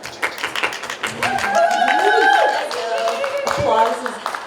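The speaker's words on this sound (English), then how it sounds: "Applause is gratefully and wonderfully accepted here." Crowd applause for the women's 100 meters medalists at the U.S. Olympic team trials, steady and fairly loud, mixed with cheering voices and talk for about four seconds.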